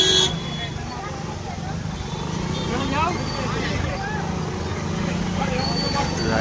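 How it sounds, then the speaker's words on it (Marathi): Vehicles jammed in traffic at a weekly market in Sangameshwar, Ratnagiri, produce a steady engine rumble with a horn toot, under a continuous crowd murmur and nearby voices. "एक गाडी घुसली आणि ट्रॅफिक फुल जाम"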